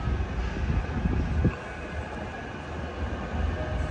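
A Metrolink tram on the Rochdale via Oldham service moves out near Manchester Victoria, a low steady rumble and hum with a brief clank partway through, moderately close and continuous.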